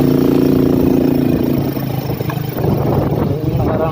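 A motorcycle engine runs loudly up close with a rough, uneven idle, its note dipping and sputtering midway, while someone talks over it.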